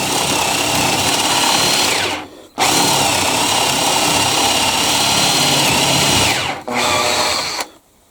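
A spade flat drill bit bores a hole in wood at high speed, a loud continuous whine and grinding from the drill that cuts out briefly twice and then stops at the end.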